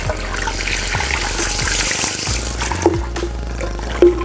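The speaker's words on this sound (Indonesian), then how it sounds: "Nah ini kita gunakan dengan air semprot" Clean tap water sprays and splashes while rinsing the filter housing of a refill drinking-water depot machine, a close, steady rushing stream with a few sharper knocks near the end.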